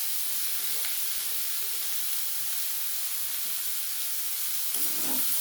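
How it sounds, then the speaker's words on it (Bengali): Grated bitter gourd hits a pan of frying eggplant, and the oil sizzles with a steady, soft hiss throughout, rising briefly near the end as the vegetables are stirred. "দিয়ে আবারও কিছুক্ষণ আমি ভাজবো।"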